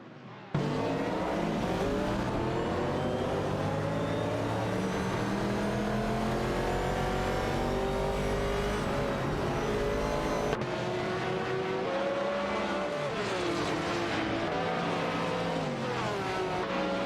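Race cars battling in a racing video game, a Nissan R382 and a Ferrari 712 among them, their engines droning loud and steady with rising and falling revs throughout.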